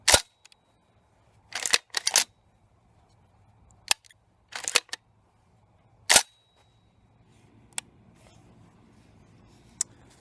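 Franchi Affinity 3 shotgun with an oversized bolt release, its action worked by hand: several sharp metallic clacks in separate clusters, close and crisp against a quiet background, followed by a couple of faint ticks.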